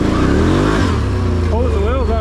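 A Can-Am Renegade 1000 ATV in sport mode revs hard on a muddy trail, its engine note climbing and wavering in pitch, loud and close, with someone talking over it.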